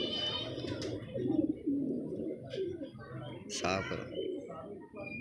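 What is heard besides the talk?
pigeon cooing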